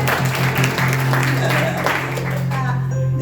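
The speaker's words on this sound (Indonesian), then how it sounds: "itu tepuk tangan dulu deh buat Tuhan" A church congregation at a Sunday worship service applauds steadily for God, a broad wash of clapping over a constant low hum, with some background voices and a fade near the end.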